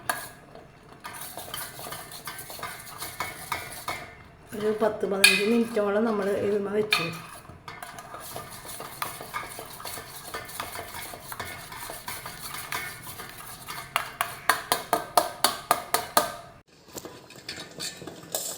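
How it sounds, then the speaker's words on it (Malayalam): A spoon stirs aloe vera gel thickened with starch in a pan on a stove, scraping and clinking against the metal, ending in a rapid rhythmic series of taps, while someone talks in between. "എന്നിട്ട് നന്നായി ഇളക്കണം കേട്ടോ"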